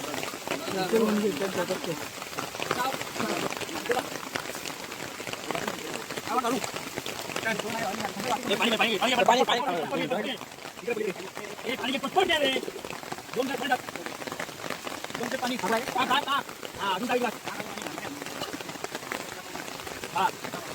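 Steady rain patters on surfaces throughout in a forest between Mandangad and Chiplun while people talk over it.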